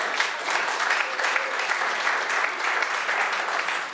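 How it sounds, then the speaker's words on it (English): A full room applauds at a city council community services committee meeting in Hamilton, a steady, dense wash of many hands clapping that holds evenly for about four seconds with no voices over it. "we really do need to give her another round of applause for all of her work"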